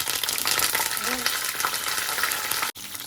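Cashews, curry leaves and green chilies fry in hot peanut oil, giving a steady, loud broadband sizzle with faint stirring, briefly cut off near the end.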